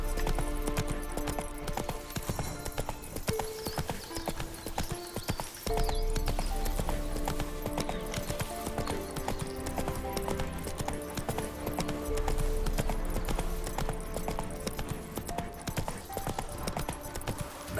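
Roach the horse from The Witcher 3 gallops with steady, rapid hoofbeats, loud and close, layered over game music and ambient sound, with an occasional whinny.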